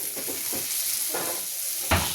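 A dosa fries in a pan with a soft, steady sizzle close by, broken by a few faint scrapes and one brief sharper clatter near the end.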